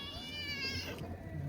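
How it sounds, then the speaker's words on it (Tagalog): A friendly cat calls out with one drawn-out, harmonic meow close by, over a low background hum. "Ito yung kaibigan natin pusa eh."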